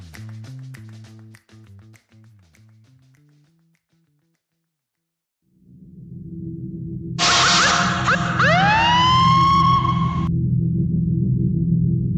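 A police car siren rises into a loud, sweeping wail over a low rumbling background, following a quiet stretch with some faint earlier tapping.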